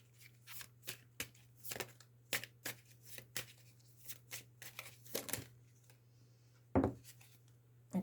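Tarot cards being shuffled by hand in a run of crisp riffling bursts and soft slaps, close and fairly quiet, with brief pauses between, alone without talk.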